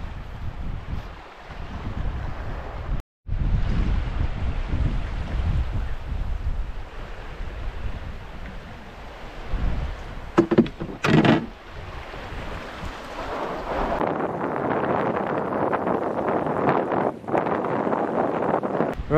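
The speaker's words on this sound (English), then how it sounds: "As you can probably tell, it's quite windy" Strong wind buffeting the microphone while canoeing on a Scottish loch in Inverpolly, Assynt, with gusty roaring blasts and lapping water, broken by a brief dropout and sharp knocks.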